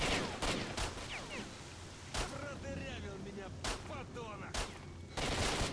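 Enemy gunfire in S.T.A.L.K.E.R.: Shadow of Chernobyl, loud bursts of automatic fire repeating every second or so, with chirping ambience between them and a voice talking underneath.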